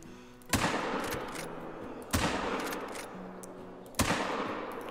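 Three loud, sharp rifle shots from a .45-70 ring out about every one and a half seconds during a bison hunt in theHunter: Call of the Wild, each with a lingering outdoor echo tail and no talking.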